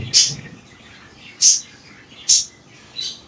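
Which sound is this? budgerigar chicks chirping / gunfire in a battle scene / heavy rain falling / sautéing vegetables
budgerigar chicks chirping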